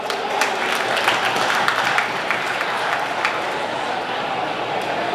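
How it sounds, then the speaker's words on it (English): Steady, sustained applause fills the room at a speedway awards banquet held at Wichita Union Stockyards, a dense even clatter of many hands with no break. "Give him a big round of applause."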